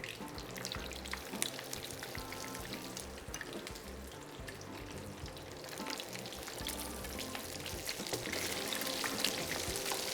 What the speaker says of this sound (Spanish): una buena fritura en casa